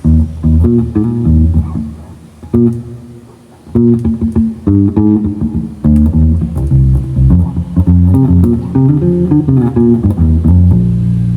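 Electric bass guitar played alone through its neck pickup with a warm, rounded tone, plucking a run of low notes in a steady groove with brief pauses.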